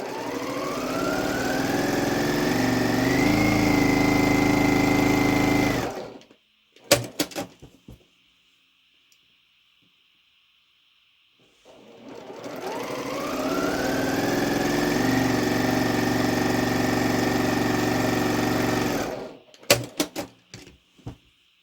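A sewing machine stitches quilt pieces in two long runs, its motor whirring up in pitch and holding steady for several seconds, separated by a quiet pause with a few light clicks and taps of handling.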